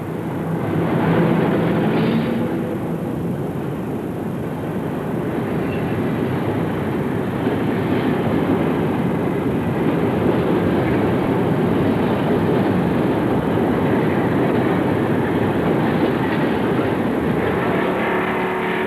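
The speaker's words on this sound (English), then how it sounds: "The bridge quickly reacted to the motion of the fast, heavy train." A heavy train of about 1,000 tons rumbles steadily across the Akashi Kaikyo suspension bridge, a dense continuous roar of wheels and cars that stays loud throughout with no voices.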